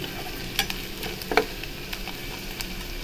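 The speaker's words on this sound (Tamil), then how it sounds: "அந்த பொடி நல்லா எண்ணெயிலேயே நல்லா ஃப்ரை ஆகணும்" Spice powder of rava and cotton seed fries in oil for a garlic thokku, giving a soft, steady sizzle with a couple of sharp spoon scrapes against the pan.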